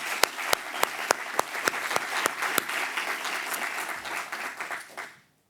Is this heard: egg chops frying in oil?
no